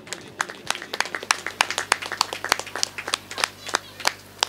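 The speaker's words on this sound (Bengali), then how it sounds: "একটু জোরে হাততালি" Audience applause at a puja ceremony honouring a clay idol artisan, a run of sharp, separate hand claps at a steady uneven rhythm over a low steady hum, moderately near and with no talk over it.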